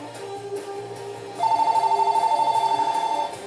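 An indoor telephone starts ringing partway through, giving a rapid trilling electronic ring that pulses steadily and stands out above faint room noise.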